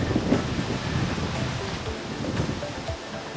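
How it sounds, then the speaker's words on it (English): Wind buffeting the microphone while running during a solo 50-mile ultramarathon, with a continuous low rumbling roar and faint rustling and no voices. "This wind feels really good."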